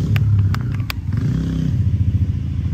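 An enduro motorcycle during off-road practice, its engine revving with a throaty, pulsing throttle close by, alongside a few sharp clicks and clatter.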